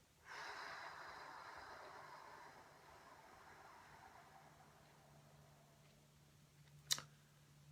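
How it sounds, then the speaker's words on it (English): A slow, soft exhale during a meditation breathing demonstration, a faint airy breath that starts abruptly and gradually fades over several seconds, followed by a quiet lull and a single small click. "And now the exhale."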